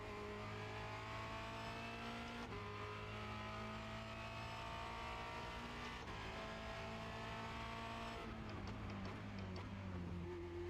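Formula Renault 2.0 race car engine at Circuit de Barcelona-Catalunya, a sustained high-pitched drone that dips abruptly when the throttle lifts, then recovers and shifts down, close and loud with no talk.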